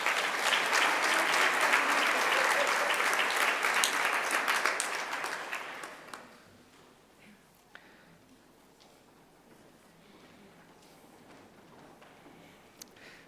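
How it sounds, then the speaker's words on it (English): An audience at a Grade 9 school prize-giving breaks into loud, sustained applause that holds for several seconds, then tapers off and fades to a quiet hall with a few scattered claps. "We can give all of them a round of applause."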